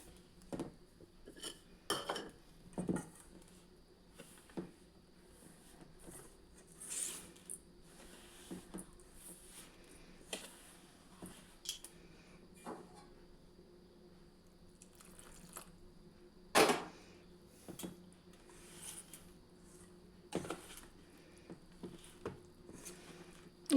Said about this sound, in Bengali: এই দুধটা দিয়ে আস্তে আস্তে অল্প অল্প করে এটাকে আমি মেশোতে থাকবো।